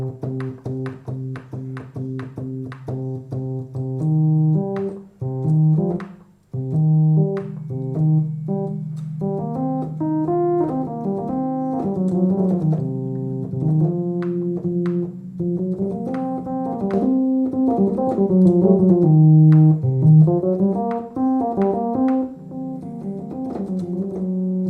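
A Yamaha DX7 FM synthesizer set to algorithm 1 plays a run of bright, bell-like melodic notes. Short repeated notes come first, then longer sustained tones layer into a steady phrase, close and clean with no voices.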